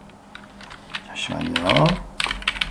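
Keys clack on a computer keyboard, including F2 and Enter presses, while entering accounting data; scattered taps run under a speaking voice in the middle.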